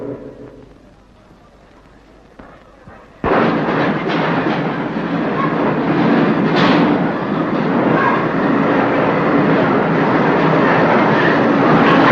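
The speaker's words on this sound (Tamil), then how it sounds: "தாதர் எக்ஸ்பிரஸ் இன்னும் சிறிது நேரத்தில் 5வது பிளாட்பாரத்திற்கு வந்து சேரும்" After a quiet moment, the Dadar Express suddenly roars in close by at platform 5 of a station, its loud rumble and rattling carrying on steadily.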